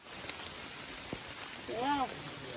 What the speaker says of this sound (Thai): โหทุกคนฝนตกแรงมาก